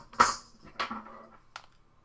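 An orchestral tambourine is struck or shaken three times, with bright metallic jingles that ring briefly after each hit. The first hit is the loudest, and there is no talking.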